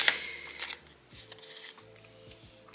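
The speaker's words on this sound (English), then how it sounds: "I'm just going to shuffle." Tarot cards shuffled by hand, giving a sharp riffle burst at the start followed by softer, intermittent rustling and card flicks, close and fairly quiet with no talking.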